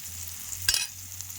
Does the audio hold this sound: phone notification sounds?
no